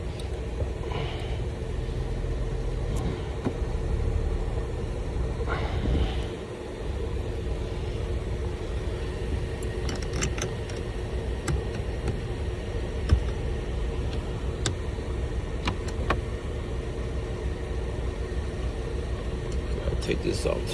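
A 2003 Mercedes E320 engine idles steadily with a low rumble underneath, joined by scattered clicks and handling noises nearby.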